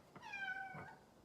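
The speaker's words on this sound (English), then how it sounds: "I don't know if you can hear my cat screaming now to get outside." A house cat meows loudly and insistently, wanting to be let outside: one drawn-out, rising and falling cry close by, standing alone in an otherwise quiet room.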